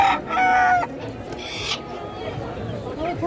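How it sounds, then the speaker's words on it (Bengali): Native country chickens at a duck and poultry market in Krishnanagar cluck and call in a few sharp, close bursts near the start, followed by softer market bustle and voices. "একদম দেশি মুরগি আছে।"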